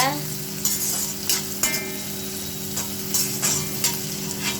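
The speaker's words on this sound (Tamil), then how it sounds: "இப்போ சின்ன வெங்காயம் போட்டுக்கலாம். நல்லா வதக்கிக்கோங்க." Shallots sauté in a pan for a prawn dish, giving a steady close sizzle with rhythmic scraping stirs of a utensil about every half second.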